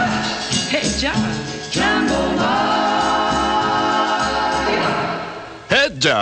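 A 1952 recording backed by an orchestra, loud band with steady rhythm and a prominent vocal line, fading toward the end before a brief final swell.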